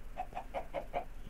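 A Minecraft chicken clucks five times in an even, quick rhythm, soft and close, with a low hum underneath and no talking.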